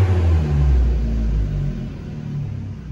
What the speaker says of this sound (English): So everything idles fine,